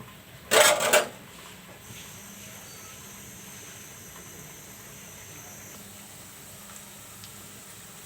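Fish kofta dropped into hot mustard oil in a home kitchen, giving a loud burst of sizzling hiss for about a second before it settles into a faint steady background hum with no talking.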